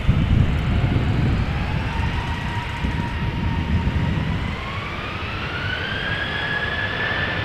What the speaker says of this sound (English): Boeing 737-800 from KLM, flight 1281 going to Edinburgh.